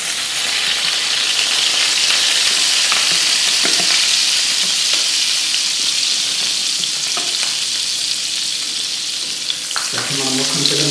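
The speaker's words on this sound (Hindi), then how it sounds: "अब इसमें हम फ्राई पैन में मक्खन डालने लगे हैं।" Butter melting and sizzling in a frying pan, a steady close frying hiss throughout with occasional soft stirring clicks and a brief clatter near the end, no talking.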